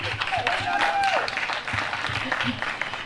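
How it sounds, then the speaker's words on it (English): Applause from a crowd at a city meeting, a steady wash of clapping lasting about three seconds, with voices talking over it. "Give her a round of applause."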